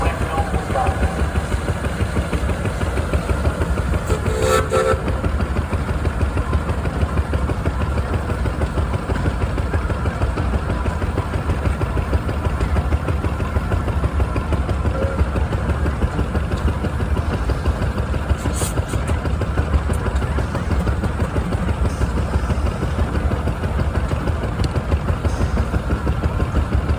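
An antique engine runs continuously in a tractor parade at Edgerton, Wisconsin, with a steady, loud mechanical chug, and a few brief clanks and noises stand out over it.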